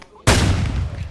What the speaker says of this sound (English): Shoot at Stanley.